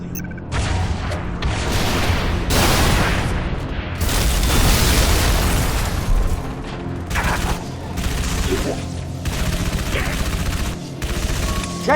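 Rocket launcher blasts and explosions in the Halo 3 ODST shooter game, with dense heavy booms and rolling gunfire bursts over twelve seconds, loud and continuous with brief lulls.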